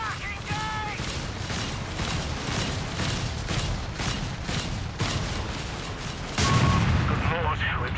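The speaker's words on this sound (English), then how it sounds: "The Polsten also got a bonus of 5 damage per shot more when it's shooting at vehicles." Polsten anti-aircraft gun in Company of Heroes 3 firing at vehicles, a steady rapid series of loud repeated shots amid other battle noise, intensifying near the end.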